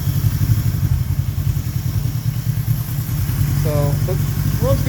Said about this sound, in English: Idles, runs up nice and clean, idles right back down.